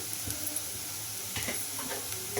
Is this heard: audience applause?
no